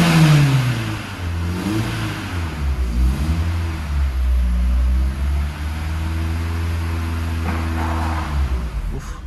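A car engine idling unevenly after its dead battery was recharged, a loud close low rumble whose pitch sags and wavers as the revs dip and recover.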